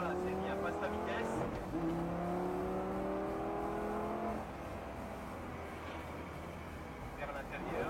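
A Lamborghini Gallardo accelerates steadily on a track, its engine note climbing through rising harmonics before easing off, with an instructor's voice talking over it.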